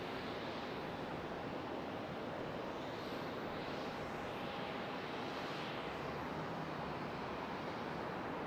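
Jet engine roar from a Spirit Airlines airliner taxiing across a runway at Charlotte Douglas International Airport, a steady broadband rumble and hiss heard from a distance outdoors, with wind noise and no talking.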